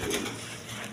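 Young Rajgolla pigeons kept in pairs give a brief low coo near the start, soft and close against a steady background hiss.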